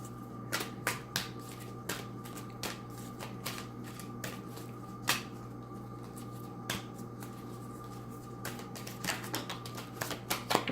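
Large oracle cards being shuffled, a steady run of soft papery riffles and slaps with occasional sharper snaps, close up and with no talking.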